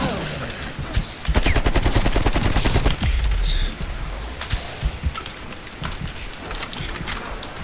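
Guns fire at zombies in the video game Call of Duty Black Ops Cold War, with loud, rapid bursts of automatic gunfire broken by short pauses and scattered single shots.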